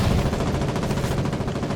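Gunboat guns firing in the video game Foxhole: dense, continuous rapid gunfire with heavy low rumble, loud and steady throughout with no talk.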